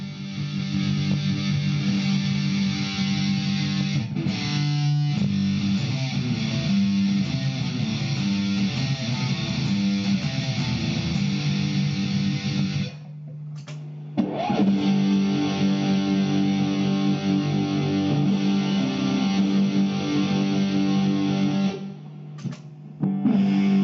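Electric guitar played through a Nux MG-20 modelling processor gives sustained distorted, effects-laden chords and riffs, loud and continuous, with a short pause midway and near the end.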